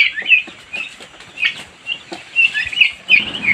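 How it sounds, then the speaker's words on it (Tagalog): Chickens on a rural farm in Maragusan, Davao de Oro, cluck and squawk in a busy, overlapping chorus, close and fairly loud, with some wing flapping mixed in. "Tapos may manok."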